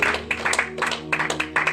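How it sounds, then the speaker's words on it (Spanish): A church congregation at an evangelical service claps together in short, uneven bursts of applause, moderately loud and close, over a faint background hum. "Denle un aplauso a Cristo"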